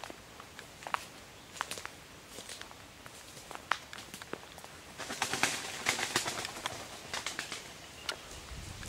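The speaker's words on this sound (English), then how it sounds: "It was spooking some birds in the trees." Birds startled in trees around an abandoned asylum on a freezing night, heard as scattered sharp rustles, flutters and short calls that thicken into a busier flurry halfway through, moderately close, with no talking.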